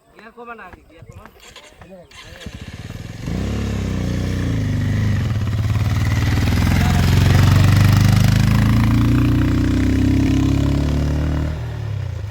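A 100cc motorcycle grinds up a very steep hill near Mirik, Darjeeling in second gear, its engine a loud, steady drone that builds and holds after a brief stretch of voices, with people talking over it.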